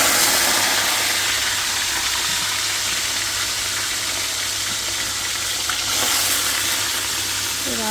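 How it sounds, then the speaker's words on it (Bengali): Salted fish pieces, with no turmeric, fry in a pan in a home kitchen, giving a loud, continuous hissing sizzle that holds steady throughout, with a faint low hum underneath. "এই হলো মাছ আমি লবণ দিয়ে রেখা দিছি কোনো হলুদ দিব না জাস্ট শুধু এগুলোরে আমরা ভাজা নেব"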